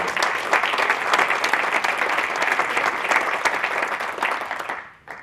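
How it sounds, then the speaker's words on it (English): A conference audience at a morning summit applauds its panel, steady dense clapping filling the room for about five seconds before tapering off sharply at the end. "let's have a round of applause for our panel this morning"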